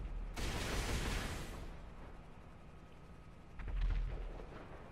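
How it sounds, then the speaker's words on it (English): Rockets launched from a vehicle in GTA 5 burst out as a loud roaring blast that fades into a rumbling tail, followed by a second, shorter explosive boom, no talking. "You can fire just rockets at a time, or you can just go ahead and shoot as many as you want."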